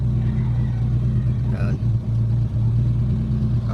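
A Mitsubishi GSR engine idles with a steady low rumble, its revs dipping and rising, while the exhaust sputters unevenly nearby; a person speaks briefly over it.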